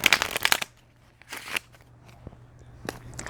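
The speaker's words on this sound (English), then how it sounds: "shuffling some cards, some tarot cards" Tarot cards being shuffled by hand in two or three quick riffling bursts of papery flutter and slaps, close and fairly loud, with quiet pauses between and no talk.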